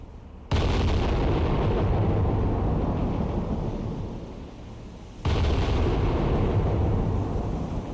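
The main gun turrets of an Iowa-class battleship fire in the naval game Cold Waters, two massive booming salvos a few seconds apart, each rolling on with a long, deep rumble.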